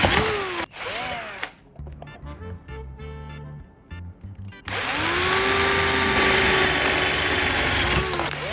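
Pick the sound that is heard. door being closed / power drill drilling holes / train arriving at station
power drill drilling holes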